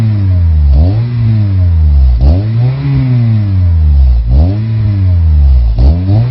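An Acura RSX engine fitted with a new Yonaka exhaust revving in a garage, four rising and falling throttle blips over a throaty idle, loud and close.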